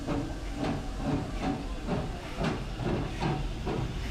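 An open-air tourist train, the Serengeti Express at Busch Gardens Tampa, rolls along steadily, a continuous rumbling hiss with faint rhythmic clatter pulsing about twice a second.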